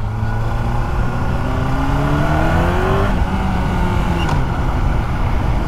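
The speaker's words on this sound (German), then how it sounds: "aber schön laut ist mein Motorrad" A loud Yamaha motorcycle engine revs up and holds, its pitch rising and shifting steadily, close by with no talking.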